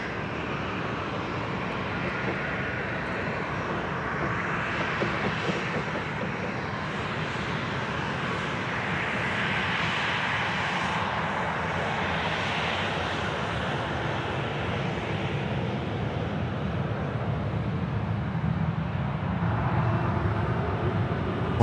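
Qantas airliner departing Sydney Airport for Melbourne, its jet engines a sustained rumbling roar that swells and rolls on for the full stretch, fairly loud and unbroken.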